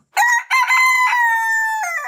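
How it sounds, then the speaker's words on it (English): A rooster crows loudly and close, one long drawn-out cock-a-doodle-doo with a brief break near the start, heard alone. "Look at the rooster!"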